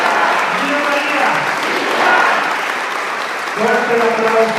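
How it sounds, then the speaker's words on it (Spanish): A church congregation applauds during Mass, sustained clapping from many hands with voices calling out over it. "Vamos a darle un fuerte aplauso a Jesús."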